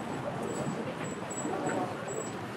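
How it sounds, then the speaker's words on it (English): Street ambience recorded on a busy Copenhagen shopping street: a soft, continuous wash of passersby and distant chatter, with faint scattered higher sounds, at a low even level throughout. "where I just recorded some people walking by and it sounds like this"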